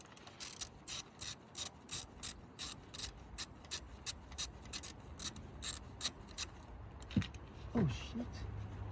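A ratchet tool loosens screws in the engine bay of a Honda Jazz Mk1, giving a regular series of quick, close clicking strokes, followed by a short spoken exclamation.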